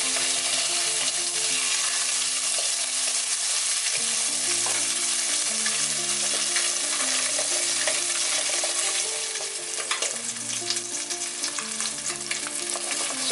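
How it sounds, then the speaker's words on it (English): Sea bass fillet seared skin side down in a hot pan, a loud steady sizzle that continues without a break, with background music playing underneath and no talking. "quickly sear the fish into the same pan. So make sure your pan is nice and hot. Fish skin side down."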